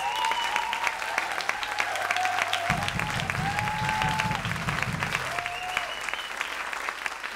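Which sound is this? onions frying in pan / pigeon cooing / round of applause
round of applause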